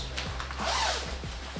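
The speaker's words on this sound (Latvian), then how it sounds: "Mitram izturīgs priekšējais rāvējslēdzējs" Front zipper on a Norfin MIST nylon-lined suit being pulled, a few quick close rasps with a longer zip in the middle, alone with no talk.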